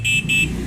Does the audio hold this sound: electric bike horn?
yes